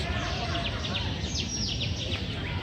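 Birds in a park in Peru chirp in quick descending calls, repeated and moderately near, over a steady broadband hiss of background noise.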